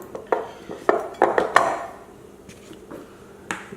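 Plates and cutlery clatter in a home kitchen as a seared cod and summer succotash dish is plated, with a series of sharp, close clinks and taps in an irregular rhythm, busiest early, then sparser knocks.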